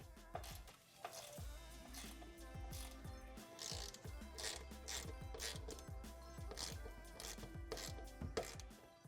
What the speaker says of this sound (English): we'll go ahead and tighten the bolts in the corners first and then the middle